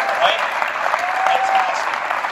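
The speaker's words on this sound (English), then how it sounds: "how about a big round of applause for all these movers and shakers?" A conference audience at an industry update event gives sustained applause, a dense, even roar of clapping from many people.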